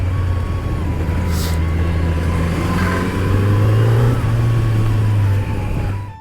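A Kawasaki Z900 motorcycle rides along a road, its engine a steady loud drone whose pitch swells and climbs midway as it accelerates, then settles, continuous throughout with no talking.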